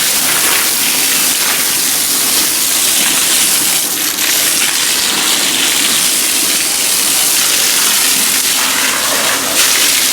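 Water gushes steadily into a fish tank being filled, a loud, continuous rushing hiss that barely changes over about ten seconds, with no voices over it.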